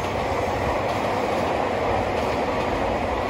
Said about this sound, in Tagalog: Dumaan yung train.